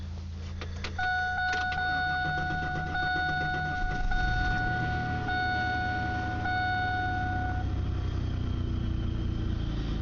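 A car engine cranks and catches, then settles into a steady low idle, with a few chimes ringing from the dashboard early on.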